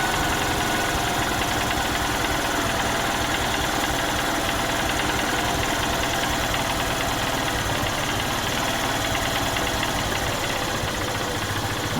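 A two-wheeler engine idles loudly and steadily nearby as its idle speed is adjusted, a constant droning rumble with no voices.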